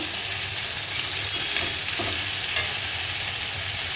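Pumpkin greens, pumpkin, potato and eggplant fry in fish oil with a constant, loud, close hiss, with soft stirring scrapes rising now and then above it.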